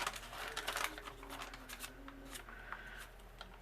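A ravioli cutter rolls and slices through keto dough in close, faint scraping and crinkling strokes, with a few soft rustles and no talking.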